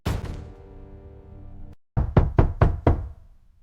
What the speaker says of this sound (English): The pounding at the door caught her off guard.